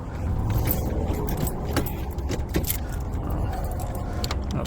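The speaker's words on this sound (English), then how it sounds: "I'll put the key in." Keys jangle near the ignition of a truck with engine trouble, bright metallic clinks scattered over a steady low rumble, close and moderately loud with no talk.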